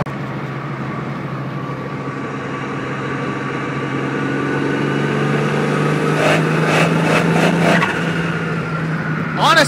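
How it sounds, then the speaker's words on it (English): Nissan RB30DET turbocharged engine revving under heavy boost, around 18 psi, during a drive, a steady loud engine drone rising in intensity with bursts of turbo whoosh and flutter near the end. "rb30 catching some big boost"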